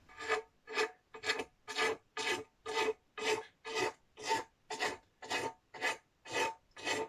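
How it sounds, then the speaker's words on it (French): A hand file rasps along the edge of covering film on an RC plane chassis, cutting it in about fifteen steady, evenly spaced strokes, each a close, gritty scrape with brief pauses between. "sur le bord, on vient mettre un coup de lime"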